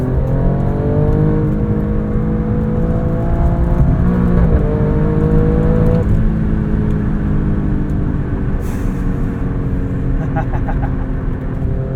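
A 2022 Alfa Romeo Stelvio Quadrifoglio SUV engine drops to a low gear on a highway entrance ramp and pulls hard, a loud, steady rising engine drone heard from inside the cabin with a brief gearshift blip partway through.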